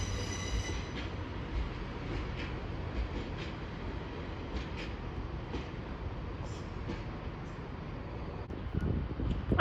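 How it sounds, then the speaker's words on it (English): A Transport for Wales passenger train running from Barry Island to Pontypridd pulls into Cardiff Central station with a steady rumble of wheels on rail, faint squeals and some wind noise, heard from the platform and growing slightly louder at the end. "arriving in now is the Transport for Wales service from Barry Island to Pontypridd"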